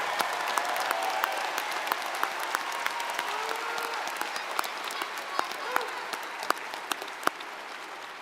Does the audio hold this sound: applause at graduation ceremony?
yes